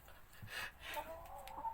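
Hens cluck in a backyard chicken coop, a close, steady flutter of soft clucks and a rising call rolling together over a faint background hum.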